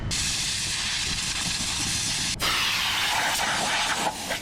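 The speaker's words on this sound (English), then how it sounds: "Wish I had more larger compressor where I could just keep running this air." Compressed air blasts through the Red Dot AC unit on an Eastonmade 60C firewood processor, a loud, continuous broadband hiss with a brief break and shift in tone midway, close to the microphone.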